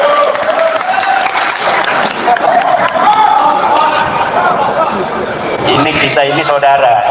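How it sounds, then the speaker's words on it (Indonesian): An audience at an Islamic religious lecture bursts into applause for the moderator, a dense, steady clapping lasting about seven seconds, mixed with murmuring and a few chuckles. "Tepuk tangan untuk moderator."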